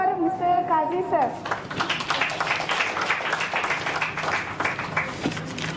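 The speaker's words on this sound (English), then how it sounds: "Let us clap for Mr. Kazi sir." Applause from the audience at an academy's Republic Day celebration in Dharwad, rising into broad, steady clapping after a voice with a harmonic, tonal quality fades at the start, then sustained at an even level to the end.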